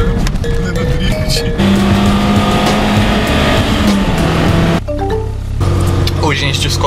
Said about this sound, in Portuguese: O carro fazendo drift.